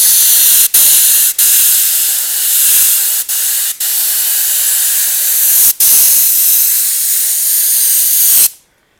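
An airbrush sprays paint in a loud, continuous hiss, broken by several brief pauses where the trigger is released, before stopping sharply at the end.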